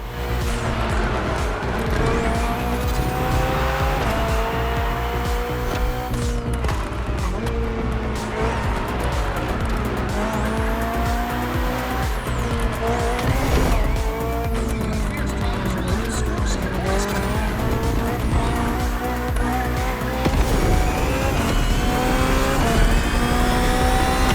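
A hybrid V8 race car in The Crew Motorfest roars through a race, engine revving up and down in repeated surges with tires squealing and skidding through corners, loud and close throughout.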